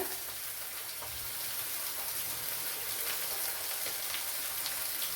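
Bitter gourd frying in a pan of hot oil, a steady, dense sizzle and crackle like light rain that holds evenly close up throughout.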